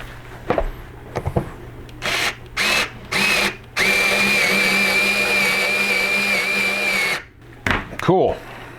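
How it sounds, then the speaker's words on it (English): A power drill with a big bit drives into a priming block, starting with short bursts and then running in one long steady whine, with brief speech mixed in around the drilling. "I think I'm gonna need a big drill bit."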